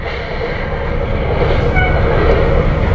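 Loud rumbling of the Hokuto 19 limited express rolling on rails into Sapporo Station, a steady dense roar with faint metallic squeals, close by.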